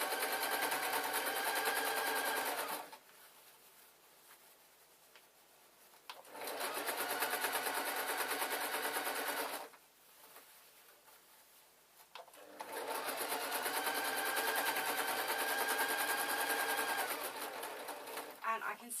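Sewing machine reverse stitching through denim jeans, three sustained bursts of rapid whirring stitching separated by quieter pauses, close and steady.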